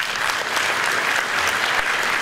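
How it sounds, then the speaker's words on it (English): Audience applause at a national pharmaceutical regulatory conference, a dense, steady wash of clapping from a large room filling the whole stretch at even loudness. "you can give them a clap"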